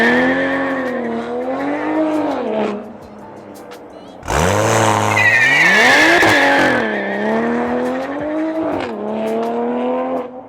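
A 2020 Toyota Supra A90 launches with traction control off, its engine revving in long rising and falling sweeps, then tires squeal loudly midway as it bursts forward, heard close and intense throughout.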